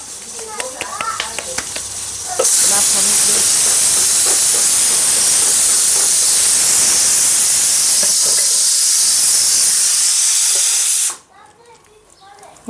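Steady, loud hiss of steam pours from a pressure cooker steaming dhokli for guvar dhokli shaak, lasting most of the clip before cutting off abruptly, with faint clatter at the start.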